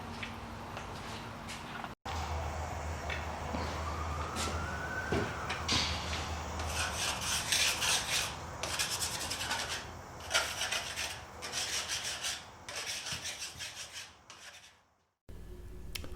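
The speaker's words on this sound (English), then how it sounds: "I'm condensing the fun task of sanding into a few seconds" Sanding a wooden coffee table top with 80 and 120 grit abrasive gives a continuous gritty rubbing, rising and falling in short strokes with brief pauses over about sixteen seconds, close and steady.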